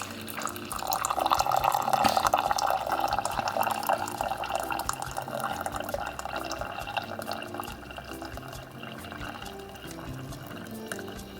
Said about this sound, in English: Press the button. And it's gonna pump out boiling hot water.